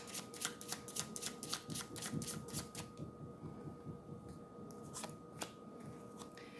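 Tarot deck being shuffled by hand, a close run of quick crisp card riffles and slaps in the first half, then quieter sparse card sounds and taps, with no speech.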